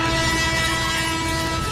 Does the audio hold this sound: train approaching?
yes